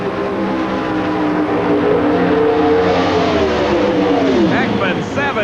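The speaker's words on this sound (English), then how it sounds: "You can hear these race engines build the RPM" Loud drag racing engines at the 1987 Chief Auto Parts Nationals, Texas Motorplex, roar and climb steeply in pitch as they accelerate hard, a sustained rising howl over a constant crowd-like wash.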